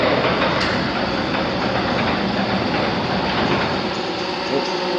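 An overhead garage door runs in a steady, loud mechanical rumble with a continuous rattling drone throughout, no pauses or talk.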